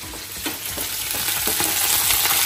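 Continuous crackling sizzle of a tempering frying in hot ghee for pongal, close and loud, with light stirring scrapes throughout and no speech.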